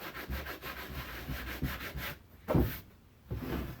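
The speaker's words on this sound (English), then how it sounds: "Yeah, it's sanding well." Steady, rough hand sanding of a Land Rover dash pad with back-and-forth rubbing strokes, close and fairly loud, with a couple of short pauses between passes.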